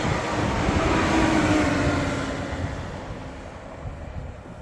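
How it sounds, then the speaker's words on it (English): A train rushes past on the busy railway line at Church Fenton, a loud broadband roar that swells over the first two seconds and then slowly fades as it moves away. "This is a train nearly every 5 minutes coming by. And there goes another one."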